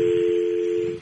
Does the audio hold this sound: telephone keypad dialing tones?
yes